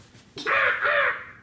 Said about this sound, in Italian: Quello è un corvo.